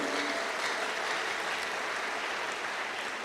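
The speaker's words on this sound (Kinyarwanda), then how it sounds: "Abagabo nidukoma amashyi mu izina rya Yesu Kristo." Congregation clapping hands during Sunday worship in a Rwandan church, a continuous, even roar of many hands from a large crowd, steady throughout with no speech.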